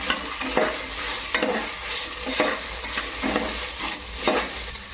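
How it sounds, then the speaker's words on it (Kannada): Carrots and beans frying in oil for vegetable pulao, a close, even sizzle with regular scraping stir strokes about once a second, no speech. "ಕ್ಯಾರೆಟು ಬೀನ್ಸು ಚೆನ್ನಾಗಿ ಎಣ್ಣೆಯಲ್ಲಿ ಫ್ರೈ ಆಗಬೇಕ್ರಿ"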